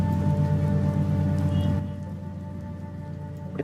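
A steady patter of rain on a late-night street, a dense continuous hiss with a low electrical hum and tones, holding even before dropping slightly in level midway.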